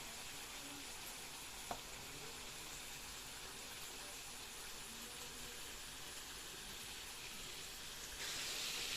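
Onion, ginger and garlic frying in oil for a spicy mutton curry, giving a steady, soft sizzle and hiss throughout, with one brief clink and the sizzle swelling near the end.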